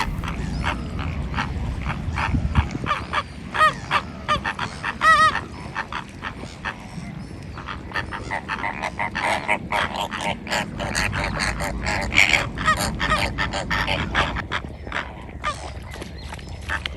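Flamingos and other waterfowl call at a lagoon in a dense honking, gabbling chorus, loud and continuous over a low outdoor rumble, with no one talking.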